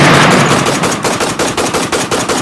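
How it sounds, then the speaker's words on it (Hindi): Loud automatic gunfire serves as a sound effect in a narrated war story about soldiers. It is a steady, rapid string of sharp shots that fills the whole stretch, and no voice is heard. "वो इस शुगल में मसरूफ थे कि तभी फायर की आवाज आई।"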